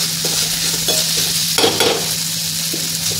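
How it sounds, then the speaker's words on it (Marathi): Spices for Kolhapuri chutney sizzle steadily in hot oil, a constant frying hiss with a brief burst of stirring scrapes partway through. "असं हे तेलामध्ये परतून झालेलं सगळं मसाले"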